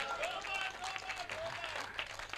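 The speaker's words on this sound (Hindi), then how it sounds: "ताली बजा दो एक बार।" An audience at a poetry recital in Nohar, Rajasthan claps in a steady burst of applause, with overlapping voices and cheers mixed in over the clapping.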